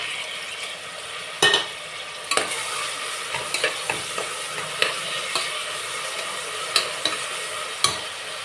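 Onions sautéing in a pan for a potato dish, with a steady sizzle of frying throughout and several sharp clanks of a spoon stirring and scraping against the pan.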